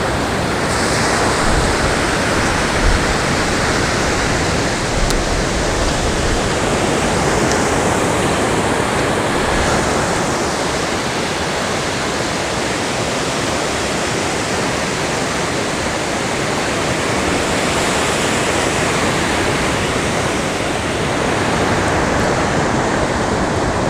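Small ocean surf swell washes onto a west coast beach in a continuous broad roar, steady and close, with some wind across the microphone.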